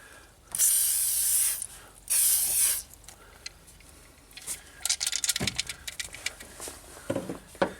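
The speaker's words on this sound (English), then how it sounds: "Magic spray." Two strong hissing bursts from an aerosol spray can, each about a second long, sprayed onto an oxidized part of a 1988 Chevy K1500 truck, followed by light clicks and rattling handling noises.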